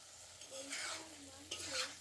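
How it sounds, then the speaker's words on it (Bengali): Vegetable curry sautéed with spices in a pot over a clay stove: a steady low sizzle with two bursts of spatula scraping and stirring, close and fairly soft, no voices. "সব মশলা টশলা দিয়ে ভালো করে কষিয়ে নেব সবজিটা"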